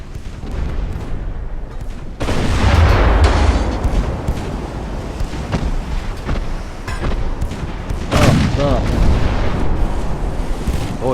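Naval gunfire in Ultimate Admiral: Dreadnoughts, warship broadsides at the Battle of Coronel: heavy booming salvos and rumbling blasts run almost continuously, loudest near the start and again toward the end, with a voice talking over them.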